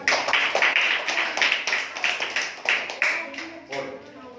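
Children clapping together in a classroom, a steady run of brisk, fairly close claps that thins out toward the end, with a voice speaking over it.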